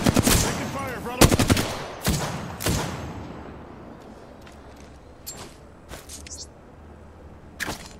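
Video game gunfire in a battle-royale match: a few heavy, loud shots in the first seconds with a voice partly under them, then fainter scattered distant pops over a low background rumble.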